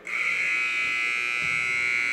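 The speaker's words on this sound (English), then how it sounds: "Look out, here comes the buzzer." A basketball game buzzer in a gym during a boys' high school tournament sounds as one loud, steady, unbroken electronic tone, held for about two seconds.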